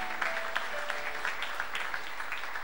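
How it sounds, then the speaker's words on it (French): A church congregation claps in a short burst of dense, even applause that holds steady from start to finish, with no voices standing out. "Est-ce qu'on peut encore applaudir le Seigneur pour cette parole?"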